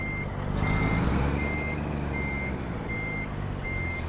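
Reversing beeper on a truck backing a trailer toward a loading dock in American Truck Simulator, a steady run of evenly spaced high beeps about every half second over a constant loud engine rumble, with no voices.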